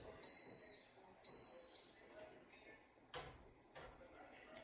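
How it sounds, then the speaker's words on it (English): A pressure canner's electronic alarm beeps twice in a kitchen where tomato paste is being made, with two short high-pitched tones at a moderate distance. Quiet clattering follows, and someone talks faintly underneath. "I'm also doing a batch in the pressure canner, which you can hear the alarm going off for"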